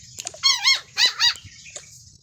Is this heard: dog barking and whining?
yes